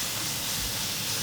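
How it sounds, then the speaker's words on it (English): Chicken sizzles in duck fat on a hot grill, warming up for a chicken Caesar salad sandwich: a steady, even hiss of frying that holds throughout, with no talking. "You can hear the sizzle, so you know this is gonna go pretty quick to warm this up."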